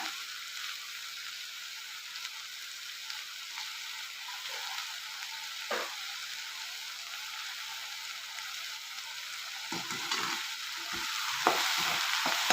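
Sliced onions sauté in a pan with a soft, continuous sizzle while a spoon stirs and scrapes through them now and then. The sound stays close and fairly quiet, with sharper stirring knocks near the end and no talking.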